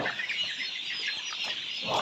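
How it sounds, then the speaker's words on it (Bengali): Hy-Line Brown layer pullet clucking on a poultry farm, with soft, chattering calls from nearby birds, steady throughout with no talking. "হাইল্যান্ড ব্রাউন জাতের একটা লেয়ার মুরগির বাচ্চা"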